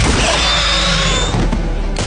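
Loud, dense burst of gunfire and booming impacts in a movie scene with spider monsters, filling the whole clip, with a sharp crash near the end.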